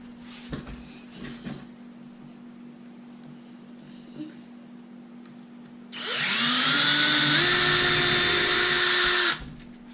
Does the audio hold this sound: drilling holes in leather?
yes